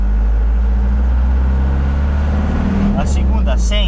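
A Chevrolet D20 pickup engine drones loudly from inside the cab as it accelerates in first gear, a steady low rumble with a voice speaking over it near the end.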